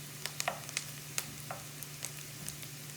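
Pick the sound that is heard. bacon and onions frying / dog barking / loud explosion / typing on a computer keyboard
bacon and onions frying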